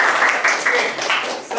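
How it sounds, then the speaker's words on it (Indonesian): A short burst of classroom applause from pupils, dense clapping that fills the moment while a voice speaks briefly over it. "Boleh tepuk tangannya untuk"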